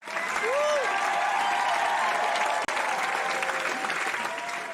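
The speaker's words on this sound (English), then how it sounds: "all those applause you all are doing out there sound exactly the same every time" Steady, loud applause from a large crowd fills the whole stretch, dense clapping with a few cheers mixed in.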